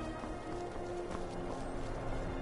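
Horse hooves clip-clop faintly in Skyrim VR, a steady trotting patter under a low ambient bed with no talk over it.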